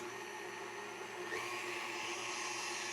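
A KitchenAid stand mixer hums and whirs steadily on its stir speed, a continuous motor drone with no other sound over it.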